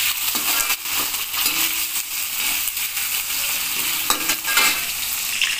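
Onion being stirred in a hot pan for dum biryani, with a steady close sizzle and irregular scraping of the spoon running throughout, no talk.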